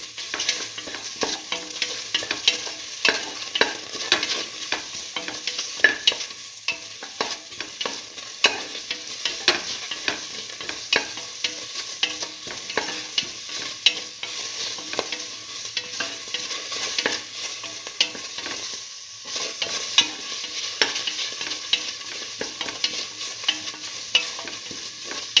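Turmeric powder is sautéed and stirred in a hot pan, a continuous close sizzle with frequent spoon scrapes and taps against the metal for the whole stretch.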